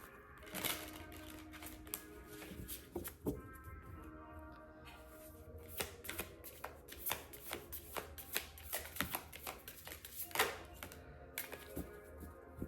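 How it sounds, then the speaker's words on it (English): Oracle cards being shuffled and pulled, a close, quiet run of papery riffles, slaps and flicks in irregular bursts with no talking. "I'm going to pull this card, Tulku Oracle"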